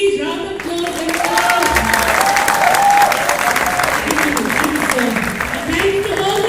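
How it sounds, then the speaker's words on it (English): Audience applause at a world record attempt event for a 75-hour relay Surya Namaskar at HMI Darjeeling, sustained and fairly loud, with a voice speaking over the clapping. "Please, round of applause"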